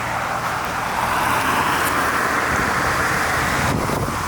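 A car drives along a road in Patagonia, with steady close road and engine noise and wind rushing across the microphone throughout, and no voices.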